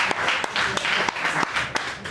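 Polite, brief applause from a comedy club audience after a young act leaves the stage, a steady patter of scattered claps with a few sharper individual hits, moderately close and without voices.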